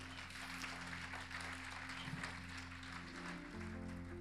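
A church congregation applauds during an evening service; the faint, steady clapping hisses evenly under a low electrical hum the whole way through.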